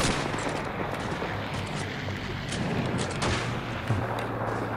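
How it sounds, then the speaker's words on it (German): Gunfire in the World War II shooter Call of Duty 2 crackles in a tight, narrow-alley setting: scattered sharp shots and bursts over a constant rumbling battle ambience, moderately loud, with no voices. "Auf wen wird hier geschossen?"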